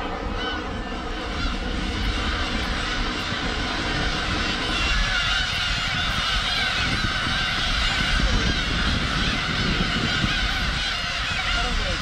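A colony of black-tailed gulls on Hongdo island fills the air with short, high mating calls, many birds overlapping in a dense, continuous chorus, with a narrator speaking over it.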